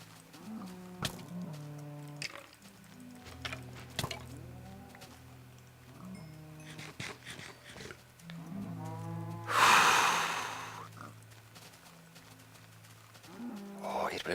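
Pigs grunt repeatedly in the game Minecraft, short low snorting grunts in an uneven rhythm, close by, with a loud burst of noise partway through.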